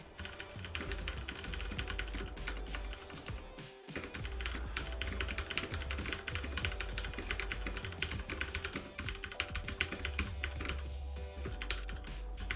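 Rapid, continuous clatter of computer keyboard keys during a touch typing lesson, close and steady with a brief pause near the start, no voices.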